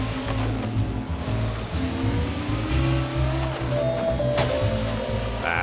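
A kart in LittleBigPlanet Karting drifts around a corner, its engine droning steadily and loudly with a rising whine and tire-squeal tones layered over it, continuous and close throughout.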